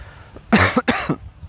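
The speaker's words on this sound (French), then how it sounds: "excusez-moi pour la toux" A person outdoors at the Cholula archaeological site coughs twice in quick succession, close and fairly loud, with quiet background between.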